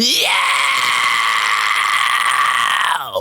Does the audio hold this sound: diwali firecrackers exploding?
no